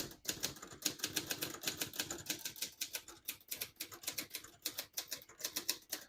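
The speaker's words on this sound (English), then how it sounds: "Let's backspace on that." Typing on a 1966 Hermes 3000 vintage portable typewriter produces a fast, steady run of crisp mechanical key strikes close up, with occasional heavier clacks and no voice.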